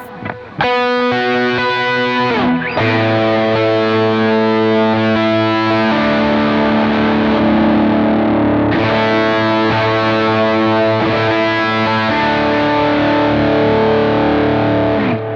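Electric guitar through a JET Pedals Lamb Overdrive pedal playing sustained lead notes and chords with a thick overdriven tone, loud and continuous, with a brief pause early on.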